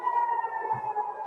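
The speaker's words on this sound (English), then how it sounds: "Air raid sirens are sounding across Israel's second largest city of Tel Aviv." A steady, wailing air raid siren drones at an even pitch over Tel Aviv, sounding distant and sustained for the whole moment with no voices.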